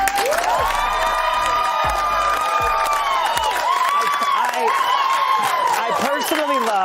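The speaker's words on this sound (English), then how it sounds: "I personally love the way that everybody's clapping and they have no idea who I am." Studio audience claps and cheers steadily and loudly through the whole stretch as a drag comedian is welcomed onto a talk show, with shouts and whoops riding over the applause and a voice briefly audible.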